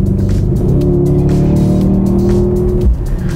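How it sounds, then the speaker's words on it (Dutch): A Mercedes-AMG GLS63 SUV accelerates hard, its engine roaring loud and steady from close by, with a brief tire chirp or shift near the end and no talking. "Ik denk dat we gas moeten geven."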